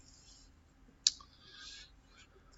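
A single sharp computer mouse click while exporting a UV layout in 3D animation software, brief and close against quiet room tone, followed by faint soft rustling.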